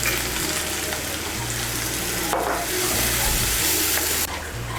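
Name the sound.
spice paste frying in oil for soyabean kosha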